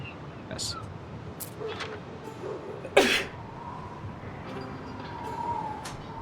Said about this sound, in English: Sneezing hurts.